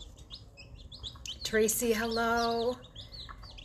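Baby chicks peep in faint, scattered high chirps throughout, beneath a person talking indoors.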